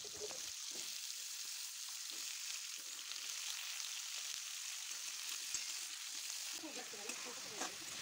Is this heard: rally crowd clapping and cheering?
no